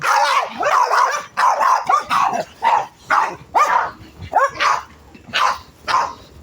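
A dog barks over and over in a steady series of sharp, loud barks close by, with short gaps between them, in a rural province setting.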